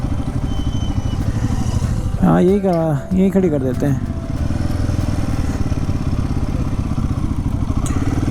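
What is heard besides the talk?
motorcycle engine idling while being parked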